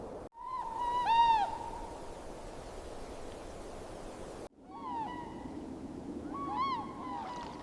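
An owl hoots out on the frozen lake ice of Hokkaido in deep winter. Two separate phrases of low, wavering hoots carry at a moderate distance over a faint windy hush.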